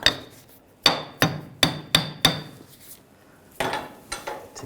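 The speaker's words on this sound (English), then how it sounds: "I'm just going to take a hammer, give it a tap." A hammer taps a lower control arm bushing on a 2009-2017 Volkswagen Tiguan, about nine sharp metallic strikes, five in quick succession, then a pause and a few more, close and clear with no talking.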